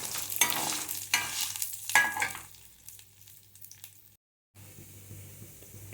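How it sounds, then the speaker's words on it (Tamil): Urad dal being stirred and roasted until golden in a pan, with a few loud scraping strokes early on, then a quieter, softer stretch with a brief silent gap near the end. "இதை பொன்னிறமாக வறுத்துக்கணுங்க"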